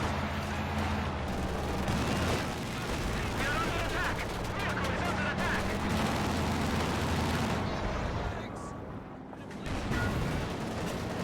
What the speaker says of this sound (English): Some big shots there from the Panzer IV.